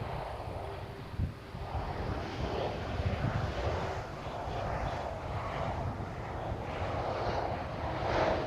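An airliner arrives at Amsterdam Schiphol airport on a windy day, a steady, fairly distant jet engine roar with gusts of wind buffeting the microphone throughout and nobody speaking.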